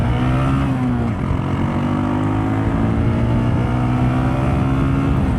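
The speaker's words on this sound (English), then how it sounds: "Now this Pure Sport SP to Dow exhaust does sound phenomenal." A motorcycle fitted with a Pure Sport SP exhaust accelerates downhill toward about 63 mph. Its loud, steady engine drone holds throughout, with a brief dip early on as the pitch shifts, then keeps climbing smoothly.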